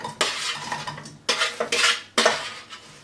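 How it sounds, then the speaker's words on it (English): Cooked sweet potato is mashed in a saucepan, with three loud bursts of squelching and metal masher knocks against the pan, each trailing off between strokes, close and without speech. "now I'm just quickly gonna mash up my sweet potato as well"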